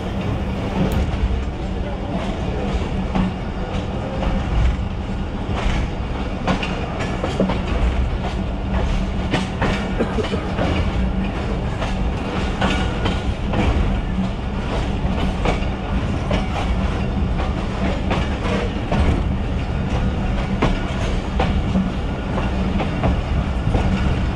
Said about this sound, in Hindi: 130 डाउन थाल एक्सप्रेस ने स्लो येट ग्रेसफुल डिपार्चर किया है जंड जंक्शन से।